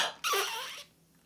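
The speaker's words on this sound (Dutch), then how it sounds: "Hier heb ik een unicorn scheetfluitje." Unicorn fart whistle toy blown once, a short squeaky squeal that wavers and bends in pitch for about half a second, then fades out, heard close with no talking.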